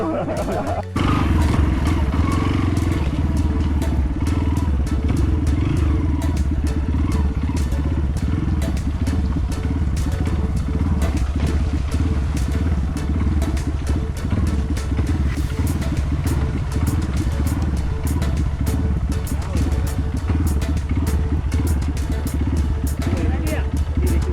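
A motorcycle engine idles and rumbles nearby throughout, steady and loud, with clattering and people talking over it, in a Pahang forest reserve.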